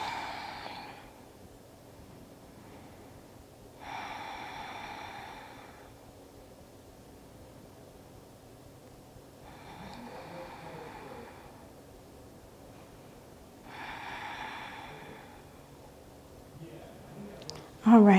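Slow breathing during a yoga twist, soft airy breaths rising and fading in a calm, regular rhythm against a quiet background, with a voice briefly speaking.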